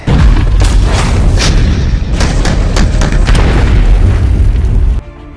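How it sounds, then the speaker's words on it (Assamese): Bofors howitzer shells explode at an army firing range of about 600 hectares, loud heavy booms and sharp cracks merging into a continuous rumbling roar that cuts off abruptly near the end. "এই ফায়াৰিং ৰেঞ্জত বফৰ্ছ বৰটোপৰ বিস্ফোৰণ ঘটাই অনুশীলন কৰা হৈছে।"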